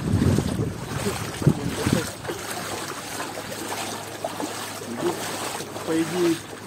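A boat travels through floodwater near riverside houses by the Kuban river, giving a low, uneven wash of motor and water noise with wind buffeting the microphone. Quiet voices come and go underneath.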